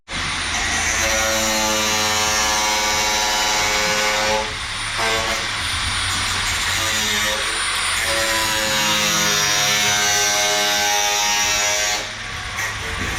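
A power tool shapes and trims bodywork on a Bosozoku-style car build. It makes a loud, steady, high-pitched motorized whine that dips briefly a couple of times before resuming.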